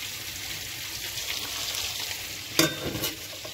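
Fish and prawns frying in a pan, a steady close hiss of hot oil with a sharp clatter and stirring bursts near the end, no talk.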